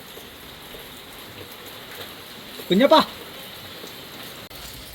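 Steady rain falling in a continuous hiss, with a brief spoken call from a person partway through.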